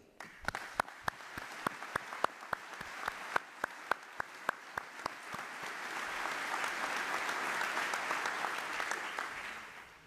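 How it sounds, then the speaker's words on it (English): An audience at a military change-of-command ceremony claps, starting with scattered distinct claps that quickly swell into steady, full applause from a sizeable crowd. "let's have a round of applause for the incredible work that EUCOM is doing."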